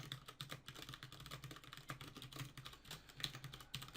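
Fast typing on a computer keyboard fills the stretch, a close, quiet run of uneven key clicks and taps with no voice over it.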